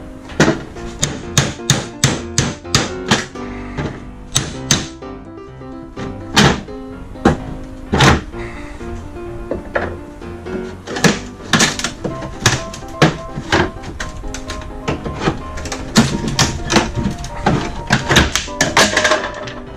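Wooden molding is pried and knocked loose inside a sailboat cabin, giving a long series of sharp, loud thunks and taps at irregular intervals, some in quick bursts, with scraping between them.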